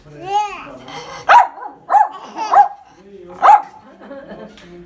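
A dog barks several times in short, spaced bursts at close range, with a whine or yip at the start.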